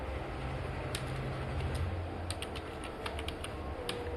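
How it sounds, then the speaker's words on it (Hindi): Typing on a computer keyboard while entering a Terraform command in a terminal, a steady patter of quick, close keystrokes over a low hum, with no talking. "इस पाथ पे जो हमारा CMD है वहां पे हम अपनी कमांड लिखेंगे"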